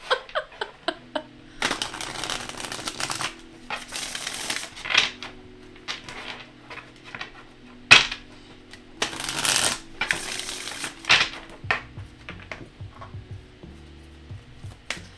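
Tarot cards from The Goddess Tarot deck being shuffled repeatedly up close, bursts of riffling and snapping separated by soft tapping and handling noises, no talking.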